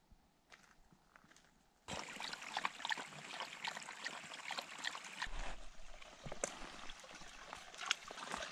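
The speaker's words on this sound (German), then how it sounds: "Hier könnt ihr das Wasser plätschern hören überall." Water trickles and splashes through waterlogged vegetation in the Finnish wilderness, a faint babble at first that turns into a louder, continuous gurgling stream with scattered splashes.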